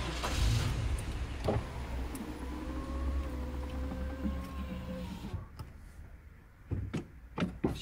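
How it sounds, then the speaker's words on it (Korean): The LPG engine of a 2000 Galloper nine-seater cranks on a start attempt, a steady starter whir lasting several seconds before cutting off without the engine catching, followed by a few clicks. "이제 시동을 걸어 보겠습니다"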